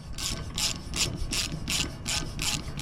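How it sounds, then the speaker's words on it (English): Bolt threads on an off-road buggy's A-arm spindle are being cleaned, giving a close, rhythmic rasping scrub of about seven even strokes over a low background rumble, with no talking. "So what I am doing is cleaning the threads"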